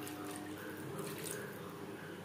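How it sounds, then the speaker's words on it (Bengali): Spiced water is poured into a pan of frying masala, making a steady close hiss and sizzle with a watery bubbling texture throughout the short moment, no talking. "এখানে আমি মশলা দেওয়া জল অ্যাড করলাম।"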